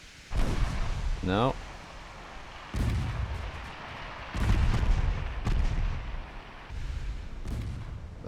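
Four-inch naval guns fire in a naval warfare strategy game, a series of heavy booming shots over a constant rumbling background, with a person talking briefly between the blasts.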